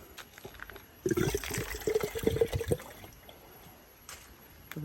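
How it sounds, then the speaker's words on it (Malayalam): Tender coconut water pours out of a freshly cut coconut in a short splashing burst lasting a couple of seconds, fairly close but quiet, followed by faint background noise. "ഇളനീരിൻ്റെ വെള്ളം കേട്ടോ ശുദ്ധമായ വെള്ളം"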